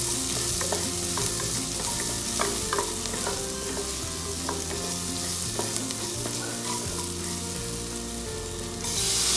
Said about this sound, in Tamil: இப்போ கொஞ்சம் சால்ட் ஆட் பண்ணுறேன் வெங்காயம் வதங்கிறதுக்கு.